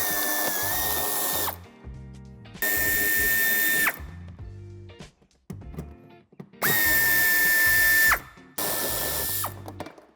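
Power tool driving out a 10 mm head screw at the bumper corner of a 2016-on Citroën Jumpy III van, with four loud sustained whirring bursts of a couple of seconds each, separated by short pauses and ratcheting clicks.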